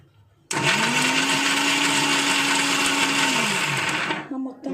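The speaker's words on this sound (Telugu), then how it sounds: "ఫస్ట్ మిక్సీ కొట్టేస్తే" A kitchen mixer grinder switches on with a loud, steady motor whine, runs for about four seconds, then winds down with a falling pitch and a brief rattle as it stops.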